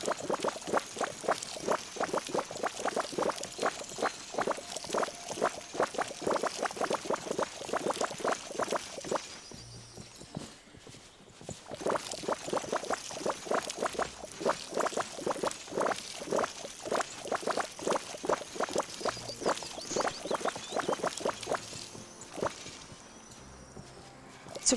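Water pouring in the video game Disney Dreamlight Valley, a steady trickling liquid stream with rapid pulsing texture that runs continuously, breaks off briefly midway, then resumes for a long stretch at a fairly even level.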